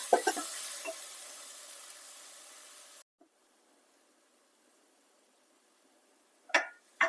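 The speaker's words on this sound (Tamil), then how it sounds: "இதை நல்லா வதக்கிக்கணும்" Onions and spices sautéing in a pan for chickpea biryani, with a crackling sizzle for about three seconds that cuts off into near silence, then a short burst of stirring or clatter near the end.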